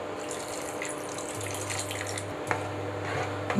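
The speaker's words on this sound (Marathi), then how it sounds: "तर ह्याच्यामध्ये घालणार आहोत आता आपण पाणी" Water pours steadily into a pan of dhaba-style butter paneer gravy, a continuous close rushing splash that ends with a small clatter near the end.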